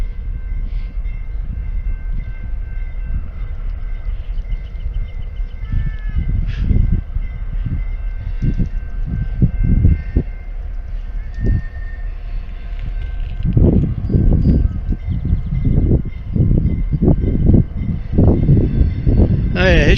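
A train approaches beside the Cape Cod Canal, its low rumble and rattling wheels building steadily and growing louder toward the end, with wind noise throughout and a person talking over it.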